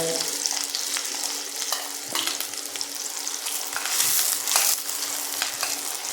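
Shallots and curry leaves fry in a pan with a loud, constant crackling sizzle, broken by occasional stirring scrapes of a spoon.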